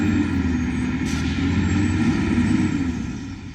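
A heavy truck stuck in a field while delivering a trailer house, its engine droning loud and steady with a deep low rumble throughout, plus a brief hiss near the start.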